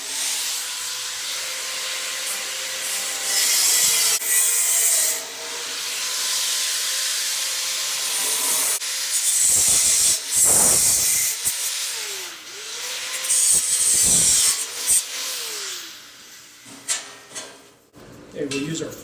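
A flap wheel grinds the metal of a new custom floor pan on a 1968 Mustang, a harsh broadband hiss coming in repeated bursts that start and stop, with a voice talking between and over them.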